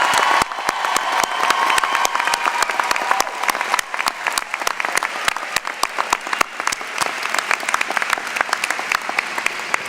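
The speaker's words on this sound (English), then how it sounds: "One more round of applause to all of our Bachelors of Administration candidates." Sustained, dense applause from a large commencement audience honoring Bachelor of Administration graduates at a 2014 business school ceremony, steady and loud for the whole stretch with scattered cheers mixed in.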